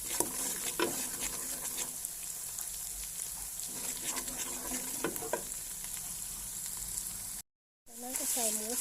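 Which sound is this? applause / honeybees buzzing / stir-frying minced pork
stir-frying minced pork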